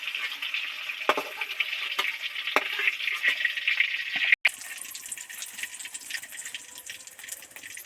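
Cauliflower florets shallow-frying in hot oil, a continuous close sizzle with scattered sharp crackles, briefly cut off and then resuming slightly brighter.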